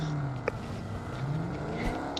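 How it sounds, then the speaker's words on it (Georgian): Car driving up in a battle royale video game during a tournament match, a low engine hum with shifting pitch, moderately faint and continuous, with brief clicks over it. "მანქანა მოვიდა ჩემთან."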